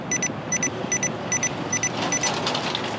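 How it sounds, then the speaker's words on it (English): A Potensic D60 GPS drone's transmitter beeps repeatedly as the drone reaches its 50-meter geofence limit, about six short double beeps in a steady rhythm, close and clear over a constant rotor hum outdoors. "so the transmitter's not beeping at me"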